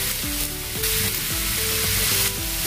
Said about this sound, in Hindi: अभी हम इसमें कड़ी पत्ता डालेंगे